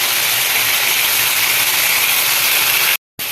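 Chopped capsicum hissing and sizzling as it sautés in a hot pan for an egg pepper gravy, a loud steady frying roar that cuts off abruptly near the end, with no talking.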